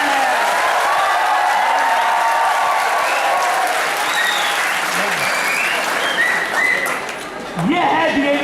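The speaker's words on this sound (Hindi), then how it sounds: "तालियां बजा दीजिए।" College alumni association crowd applauding at a gathering, a loud sustained wash of many hands with voices and cheers mixed in throughout.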